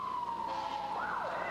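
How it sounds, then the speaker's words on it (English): Police car siren wailing loudly and close, its tone sliding down and then sweeping back up as it passes by within a brief moment. "a police car screamed by"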